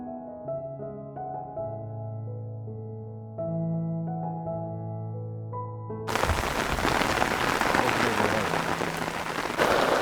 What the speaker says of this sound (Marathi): आम्ही किल्ल्यावर आलो आणि एवढा पाऊस आहे की विचारू नका